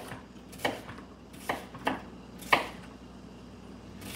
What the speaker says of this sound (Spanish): Aquí estoy picando, se mira ahí